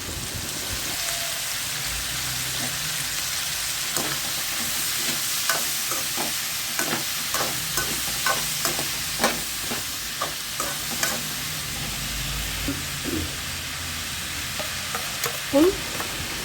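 Onions and three large finely chopped tomatoes fry in oil for masala paneer, giving a steady sizzle throughout with repeated sharp clicks of a spoon stirring against the pan.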